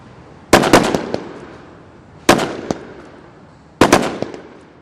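Gunfire from SWAT snipers engaging targets at an outdoor tactical challenge: three loud, sharp bursts of rapid shots, each a tight cluster of cracks about two seconds apart, with echoes trailing off between them.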